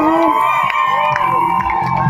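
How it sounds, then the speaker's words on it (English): A crowd at a live evening show whoops and cheers for the DJ, who runs the music and lights, in a loud, continuous roar with voices shouting over it. "I want a big hand, forte applause for the director of the music and lights"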